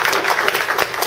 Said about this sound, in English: Before we start the Q&A, I just want to give a great big round of applause.